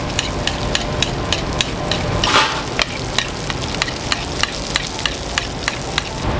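Steak sizzles steadily in a hot pan while being basted, with a regular series of sharp spoon clicks against the pan over the continuous close hiss.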